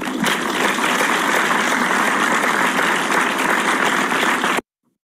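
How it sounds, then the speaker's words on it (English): An audience at a Toastmasters club annual contest in Bahrain gives a loud, sustained round of applause that stays thick and even before cutting off abruptly. "our club president, TM Mohammed Viqaruddin, with huge round of applause"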